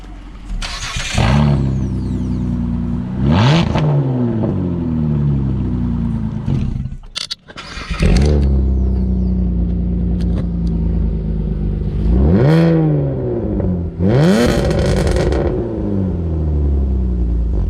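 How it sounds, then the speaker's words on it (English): A loud V6 engine with a straight-pipe open exhaust on a Nissan 380 revs repeatedly, several sharp climbs and drops in pitch over a deep idling rumble, close by. "we'll put a side-by-side comparison of the straight pipe and no exhaust"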